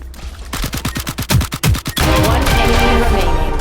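Rapid gunfire from the mobile game Valorant Mobile, played on an iPhone 6: a quick burst of about a dozen close, sharp shots over under two seconds, then a dense, noisy wash of game sound.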